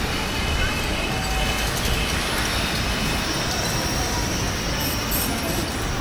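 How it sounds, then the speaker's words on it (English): Quiet street traffic of electric scooters in Shanghai, a steady, soft broadband wash with no engine roar, a faint distant whir and hiss holding level throughout, no one talking. "I expected crazy noisy traffic in China, but instead the traffic sounds like this."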